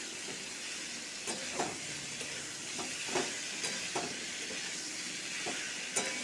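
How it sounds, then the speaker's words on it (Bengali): Ivy gourd (kundru) curry sautéing in a pan, a steady soft sizzle and hiss with a few faint stirring scrapes, heard alone at moderate distance. "এবং ভালো করে কষিয়ে নিচ্ছি।"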